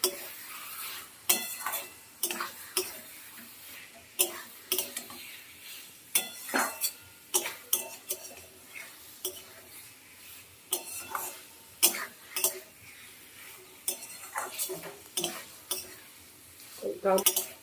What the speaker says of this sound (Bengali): এবার মশলার সঙ্গে কচুটাকে একটু মিশিয়ে নেব ভালোভাবে